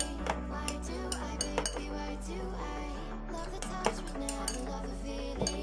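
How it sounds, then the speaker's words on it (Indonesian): A utensil stirs egg stick dough in a bowl, clinking and scraping against the sides in an uneven repeating rhythm, close and clear with a low steady hum underneath and no talk. "Ini pokoknya kita aduk sampai merata ya teman-teman ya, sampai apa itu semuanya itu rata."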